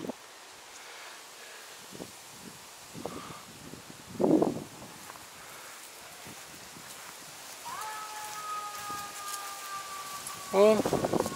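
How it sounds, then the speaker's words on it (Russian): A faint, distant siren wails somewhere in a city outdoor scene, its rising tone surfacing late, amid light rustling and scattered small noises. "Какая-то еще сирена."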